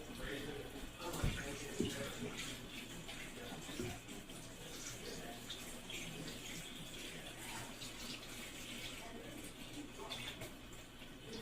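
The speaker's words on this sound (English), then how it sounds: "I'm gonna put some water over it." Water is poured from a tap or container over chicken in a baking pan, making a soft, continuous splashing trickle that is faint and fairly distant, with a couple of light knocks near the start.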